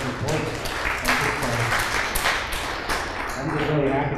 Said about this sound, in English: let's give them a round of applause for this growth report